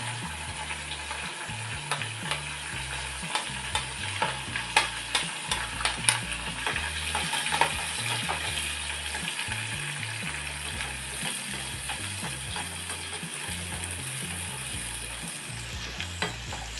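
Curry leaves and asafoetida fry in hot oil, a steady close sizzle broken by repeated crackling pops and stirring clinks of a spoon against the pan, with no speech throughout.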